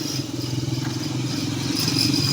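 Motorcycles and cars on a busy street at night give a steady, close traffic rumble with a pulsing engine throb and light clatter, no voices.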